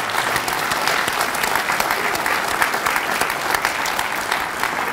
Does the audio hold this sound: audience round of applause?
yes